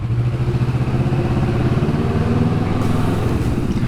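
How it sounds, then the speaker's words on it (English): Loud Kawasaki Vulcan S motorcycle with a drilled exhaust idling and revving indoors, a rough, throbbing, pulsing exhaust note, close by and continuous. "my bike gets loud in here"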